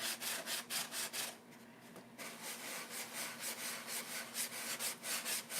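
Hand sanding with 320 grit sandpaper, a rapid, regular back-and-forth rasping at close range with a short pause midway, then the strokes resume steadily.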